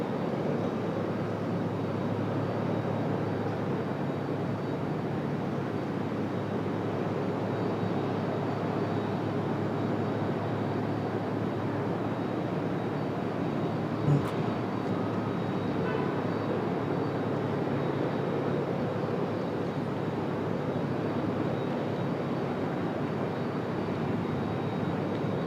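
A JetBlue airliner at Raleigh-Durham International Airport produces a long, steady jet engine rumble and hiss at moderate distance, continuous and even, with a brief sharp click midway and no clear talking.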